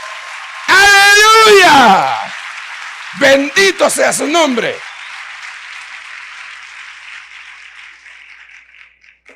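A church congregation claps and cheers in the background, a steady wash of applause that continues under a man's loud exclamations and then gradually fades.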